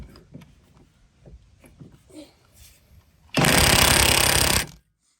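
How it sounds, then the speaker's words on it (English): A pneumatic hammer drives a die punch against a Subaru rear wheel hub to break it loose from the axle, giving one loud rapid burst of about a second after several lighter knocks and quiet shop noises. "you want to line that die punch out to release the hub from the axle"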